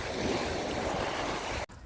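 Light rain pattering steadily outdoors on a January day in Odesa, a dense, even wash of drips with wind noise against the microphone, cutting off abruptly near the end.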